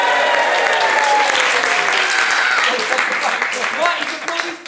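Audience at a Paris improv festival show applauding loudly and steadily, the clapping tapering off near the end as voices talk over it.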